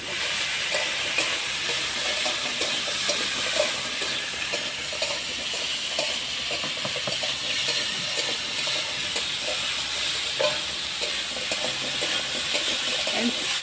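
A thin parshe fish curry with papaya, seasoned with salt and turmeric, is stirred in a sizzling pan. Steady frying hiss runs throughout, with repeated scraping stir strokes close by and no voices.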